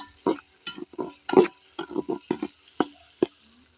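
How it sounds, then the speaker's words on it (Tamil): Finely chopped shallots with fenugreek and mustard seeds being sautéed for a river-fish curry, a spoon scraping and stirring in the pan in quick irregular strokes, with soft sizzling between. "சின்ன வெங்காயம் நாலு நம்ம அரிஞ்சு பொடி பொடி அரிஞ்சு நம்ம சேர்த்துக்கலாம் இப்போ இதை நல்லா வணக்கி விட்டுக்கணும்"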